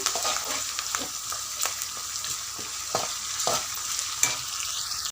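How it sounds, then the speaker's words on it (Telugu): Ginger garlic paste fries in a pan while a spoon stirs it, a continuous close sizzle broken by repeated scraping strokes and light clinks at an uneven rhythm. "ఒక స్పూన్ అల్లం వెల్లిపాయ పేస్ట్ వేయాలి వెల్లిపాయ పేస్ట్ పచ్చి వాసన పోయేదాకా కలపాలి"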